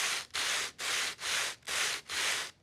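Sandpaper blocks, a percussion instrument, rubbed together in six steady strokes, each a dense, even scraping hiss with short gaps between, close and fairly loud with no talking.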